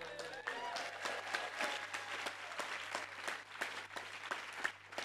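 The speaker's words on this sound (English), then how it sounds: "I want you to cheer loudly if you think that Rachel was the stork who delivered" Conference plenary audience applauding and cheering, with dense sharp claps rising and falling steadily throughout, mid-distance, mixed with crowd voices and a low constant hum underneath.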